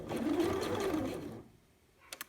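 A sewing machine stitches a hidden zip in one quick, close whirring burst of just over a second, then stops, followed by a few faint clicks.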